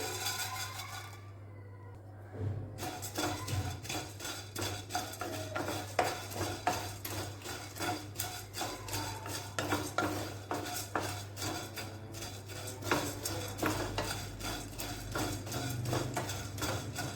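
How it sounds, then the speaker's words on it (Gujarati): Puffed rice (mamra) dry-roasted in a pan, with a steady scraping and rattling stir of the grains against metal running throughout, close and fairly loud, with a brief quiet stretch near the start. "અને હવે તલને કાઢી લઈશું અને હવે મમરા શેકી લેવાના છે।"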